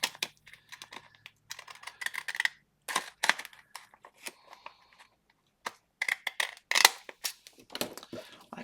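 Scissors cutting vellum paper with a run of crisp, close snips and crinkles, coming in uneven bursts separated by brief pauses.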